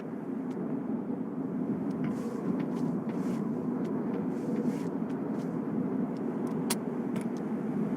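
A Jeep rolls away after its handbrake is released in a video game: a steady low rumble holds throughout, with scattered light clicks and knocks on top, moderately loud and with no talk.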